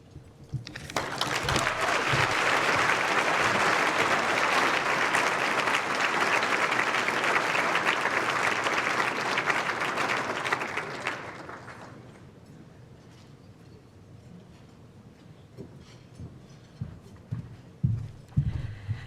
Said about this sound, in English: So can we give one more round of applause for Ren?